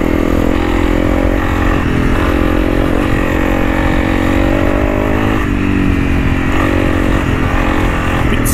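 A Honda CRF300 Rally motorcycle engine rides loud and close, its revs rising and falling continuously with throttle changes and no voices heard.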